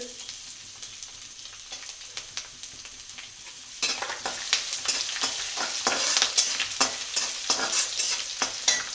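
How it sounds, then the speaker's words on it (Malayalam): Pieces of coconut and ginger sizzle and fry in hot oil in a pan for a Kerala-style clam fry, a steady crackling hiss that grows louder partway through, with occasional stirring scrapes and no talking. "തേങ്ങാക്കൊത്ത് കുറച്ച് മൂത്ത് കഴിയുമ്പം ഇഞ്ചി ഇട്ട്,"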